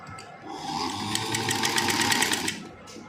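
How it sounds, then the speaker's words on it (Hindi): A sewing machine runs a fine edge stitch along a baby frock frill strip, a close, rapid whirring burst of needle clatter lasting about two seconds, quieter at start and finish. "अब हम इस पट्टी को एक साइड से बारीक किनारे की सिलाई लगा देंगे।"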